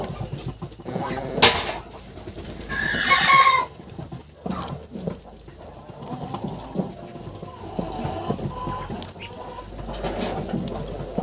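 A broody hen clucks in a farmyard during egg hatching, with scattered short calls, a louder squawking burst near the start and softer cackling and rustling continuing throughout, close by and with no talk.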